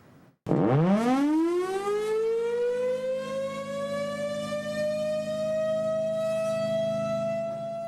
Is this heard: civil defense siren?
yes